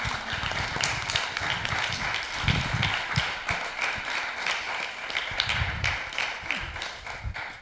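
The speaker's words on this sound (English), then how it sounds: "You can give yourself a round of applause." An audience in a temple hall applauds with steady, dense clapping that carries on for several seconds at an even level, with no voices over it.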